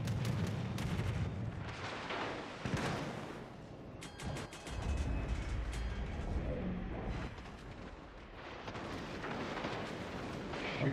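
Heavy naval gunfire from warships in World of Warships: Legends, with repeated deep booming shots and rumbling blasts layered continuously across the scene, loud and close.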